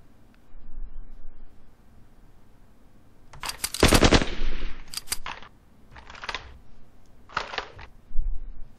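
Squads trade gunfire in a Soviet-Afghan War tactical video game, firing across a hedgerow: several loud, sharp bursts and single shots arrive in uneven clusters over a low background hum.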